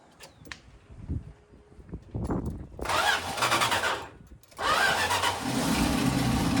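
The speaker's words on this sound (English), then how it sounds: "So I'm going to go ahead and fire it up." An old van engine cranks with a few short clicks and whirs, then catches and roars into a loud, rough idle that drops briefly before running steadily.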